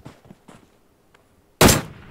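A DP-28 light machine gun fires in PUBG Mobile, heard as one loud, sharp burst near the end after a few soft thuds, with no talk over it.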